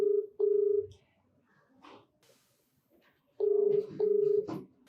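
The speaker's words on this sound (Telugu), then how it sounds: "ప్రత్యూషతో మాట్లాడతానండి, కాల్ చేస్తాను తప్పకుండా." A telephone is dialed for a call, giving pairs of steady electronic tones at the start and again near the end, separated by a quiet stretch with faint sounds.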